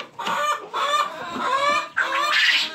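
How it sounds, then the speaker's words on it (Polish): Brahma chickens and a rooster in a backyard coop, loud close clucking and squawking in several bursts with short gaps, no talking. "Tutaj jest kogucik, który był tu."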